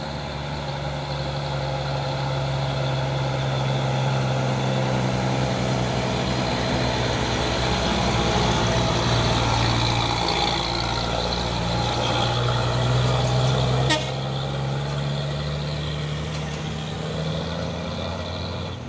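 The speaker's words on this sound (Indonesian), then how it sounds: "Masuk lagi truk Hino Jember Euro 4 ini, dan di sebelahnya ada truk Puso Oren pemain 4x2 ini ya" A Hino Jember Euro 4 truck's diesel engine idles with a deep, steady drone on the road, joined by other heavy traffic, and a brief sharp tick near the end.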